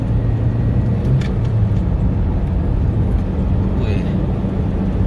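A 1995 Mitsubishi Lancer GLXi sedan pulls in fifth gear at around 80 km/h, giving a steady, close interior drone of engine and road rumble that holds without a break.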